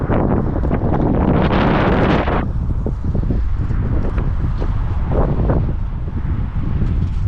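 Heavy wind buffeting the microphone while riding a 2023 Honda Shadow Phantom motorcycle, a loud continuous roar that eases slightly after the first couple of seconds, with low engine rumble underneath.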